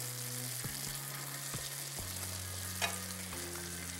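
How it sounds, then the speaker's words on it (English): Beaten egg mix frying in a pan over a medium flame, a continuous soft sizzle with a low steady hum underneath and a faint clink near the end, fairly quiet and close, no voices. "Flame is medium, and add the egg mix to this pan."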